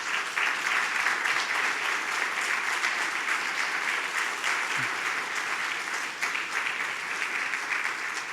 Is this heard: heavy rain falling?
no